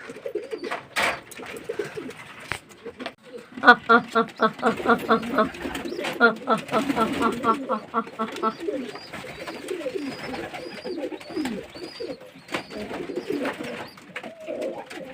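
Pigeons coo repeatedly in a loft on a hot summer day while being given water, the soft throaty calls rising and falling close by, with someone talking over them.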